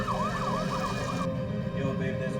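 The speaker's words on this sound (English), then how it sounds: "With his siren blaring, he slowly made his way into the neighborhood." A police car siren blares with a rising and falling wail, then shifts abruptly to a different tone partway through, loud and fairly close, with no talk.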